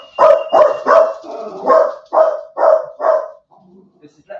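A dog barks about seven times in a quick, uneven run, loud and close in a quiet room, followed by a few faint whimpers.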